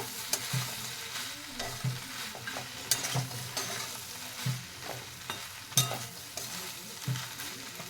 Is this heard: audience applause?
no